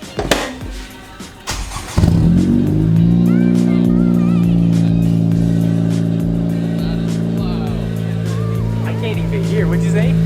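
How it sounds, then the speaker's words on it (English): A 10th-gen Honda Civic Si with a PRL catted downpipe cold-starts about two seconds in. The engine catches with a sharp flare, then settles into a loud, steady high idle close to the microphone, with faint voices before the start. "Let's get a cold start."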